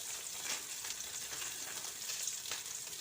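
Cinnamon, cloves, poppy seeds and grated coconut fry in a pan with a soft, continuous sizzle and light stirring scrapes. The sound is faint and steady, with no talking.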